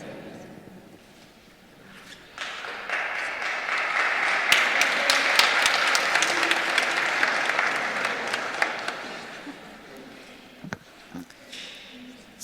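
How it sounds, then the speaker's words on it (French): A church congregation breaks into applause during a Lenten service, building from quiet murmuring into a full burst of many hands clapping, then thinning out into scattered claps with voices speaking. "Si on applaudit, c'est qu'il faut le faire."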